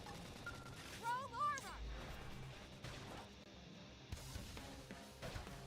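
Gunfire in the video game Xenoblade Chronicles X, heard as repeated sharp bursts and crashes over busy battle effects and game music.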